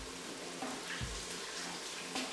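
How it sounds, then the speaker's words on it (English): Cold tap water runs steadily over hands being washed in a sink, a close, even hiss with small splashing shifts throughout. "wash your hands in cold water"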